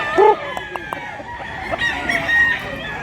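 A large rooster at a provincial poultry yard gives a drawn-out crow near the end, preceded by short clucks and other fowl calls, clear and fairly close.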